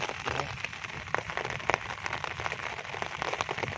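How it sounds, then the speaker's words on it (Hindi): Heavy rain pours steadily in a mango garden, a dense even hiss with scattered drop patter, close and continuous with no voices. "अभी ये देखें बारिश स्टार्ट हुई"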